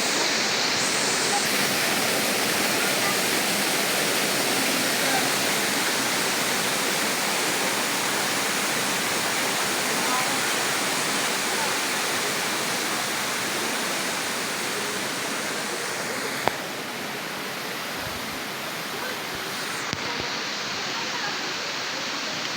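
Steady, dense rushing of a deep river far from the road, a constant broadband roar of flowing water close by throughout, with no voices heard.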